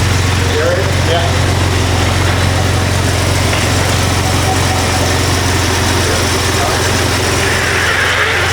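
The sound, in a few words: Ford Raptor truck engine while driving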